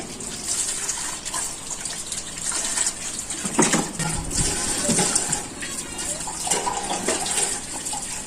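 Fresh bamboo shoots are washed under poured water: a continuous gushing stream sloshes and splashes close by, swelling and easing over several seconds.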